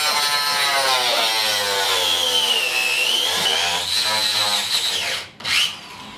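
A power saw slices an electric longboard in half, a loud, steady grinding whine with a wavering pitch that runs almost unbroken for about five seconds, then drops out briefly before a short final burst.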